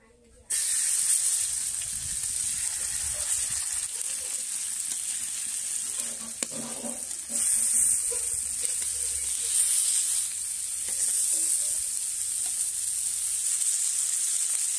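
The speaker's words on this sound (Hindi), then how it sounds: "एबे मैरिनेटेड करिक रखिथिया माछ गुडा को तावारे पकेबा" Marinated pieces of pond kou fish fry in hot oil in a pan, a loud continuous sizzle with bright crackling spitting that dips and surges slightly over time, with faint stirring sounds and no speech.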